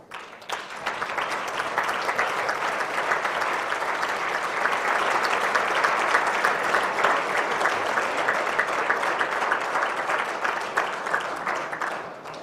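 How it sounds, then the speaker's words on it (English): A large assembly audience at a parliamentary meeting in Armenia claps steadily for the hosts and staff, a dense, sustained round of applause filling the room for about twelve seconds with no talking over it. "Let's give them a round of applause."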